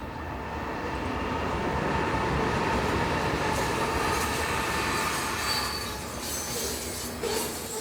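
A train rolls past over a railroad bridge in Richmond, Indiana, with a steady loud rumble, wheels squealing and clattering on the rails throughout, no voices.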